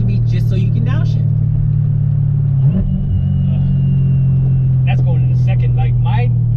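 A Corvette C7 Z06 engine drones low and loud inside the cabin, and its pitch shifts once in a short blip midway through. People talk over the steady rumble.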